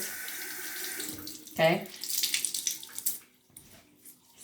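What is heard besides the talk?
tap water running to wet paper towels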